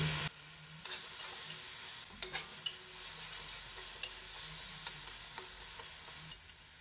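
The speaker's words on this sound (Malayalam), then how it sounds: "വെളിച്ചെണ്ണ ഒഴിക്കാം എന്നിട്ട് നമ്മൾ നേരത്തെ സാസ് വെച്ചിട്ടുള്ള ഉള്ളിമുളക് ഇട്ട് ഒന്ന് മൂപ്പിച്ചെടുക്കണം" Shallots and chillies fry in coconut oil in a pan, a continuous sizzle broken by the scrape and clink of stirring, with no voices.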